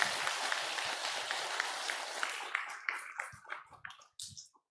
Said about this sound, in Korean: 다시금도 박수 좀 부탁드리겠습니다.